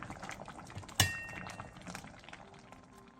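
Beef seaweed soup, miyeokguk, bubbles softly in a pot, a low, quiet boiling burble with a single sharp clink of metal near the start.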